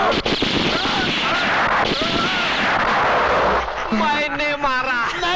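Loud gunfire bursts in a slapstick Hindi comedy sketch about shooting practice, sharp cracks and booms overlapping with shouting and excited voices throughout.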